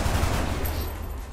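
In the game XCOM, a weapon fires as a short burst that hits loudly at once, then dies away quickly.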